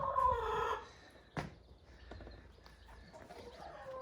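Chickens cluck in a farm shop, a quiet, fairly close burst of fowl calls at the start and then softer scattered clucks and rustling against low background noise.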